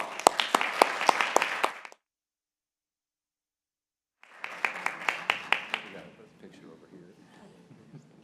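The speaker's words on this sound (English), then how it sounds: "So let's have a big round of applause for Baptist Health." Audience applause at an awards ceremony, steady dense clapping that stops abruptly, then after a silent gap resumes and fades into a scatter of claps and room murmur.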